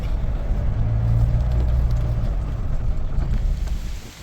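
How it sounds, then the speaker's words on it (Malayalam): Strong whirlwind gusts buffet the microphone on a boat trip, a loud, continuous low roaring rumble with steady blustery pressure that fades toward the end, with no voices. "ഇത് വെറും കാറ്റല്ല ചുഴലിക്കാറ്റാണ്"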